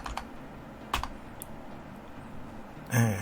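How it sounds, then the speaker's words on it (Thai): Keys tapped on a computer keyboard while typing a web address, a few sparse clicks spread out and then a quicker, louder burst of keystrokes at the end, close and alone. "ลองพิมพ์ local host นะครับ"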